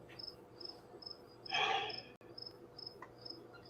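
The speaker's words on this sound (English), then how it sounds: "Who's got crickets?" Crickets chirp in short, evenly spaced pulses, faint and steady, interrupted once by a brief breathy rush of noise before the chirping resumes.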